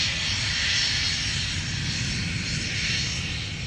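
An Embraer Phenom business jet at Minneapolis–Saint Paul airport gives a loud, steady engine roar with a broad hiss, sustained evenly throughout and with no talk over it.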